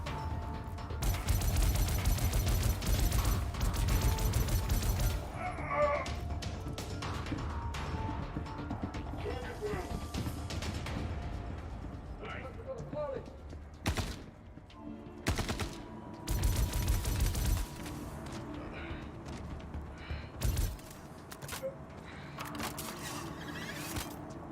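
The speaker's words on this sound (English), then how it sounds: "those shots are close" Gunfire in the Star Citizen game comes in bursts: long rattling automatic volleys, then sharp isolated shots and cracks, some near and loud, with quieter mechanical clatter between and brief speech mixed in.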